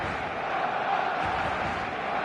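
A packed stadium crowd roars in eFootball 2026, a dense, steady wash of cheering and chanting that holds at full volume throughout, broad and enveloping, with no distinct single voices.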